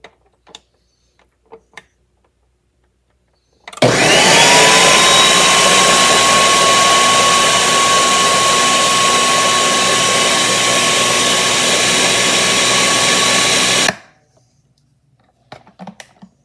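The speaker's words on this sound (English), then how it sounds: "Now you put the lid on and blend it for about 60 seconds until it's nice and creamy." A countertop blender whirring steadily for about ten seconds as it purees orange and banana into a smoothie, a loud continuous motor roar with a steady whine that starts and stops abruptly, with no talk.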